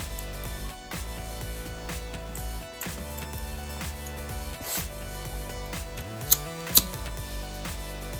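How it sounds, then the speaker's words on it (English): Scissors trim the end of a handmade hair bow with a couple of sharp, close snips near the end, set against quiet background sound. "So cut this end just to level it out."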